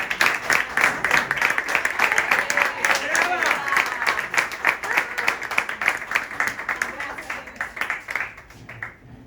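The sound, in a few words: audience applause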